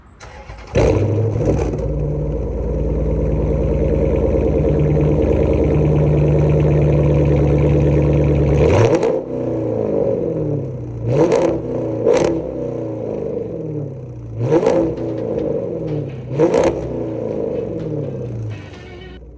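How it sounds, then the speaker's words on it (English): A 2012 Dodge Charger R/T with aftermarket exhaust cranks and fires, holds a loud steady idle, then cuts out and gives several sharp, close revs that rise and fall in separate bursts. "But I'm gonna let y'all hear the exhaust."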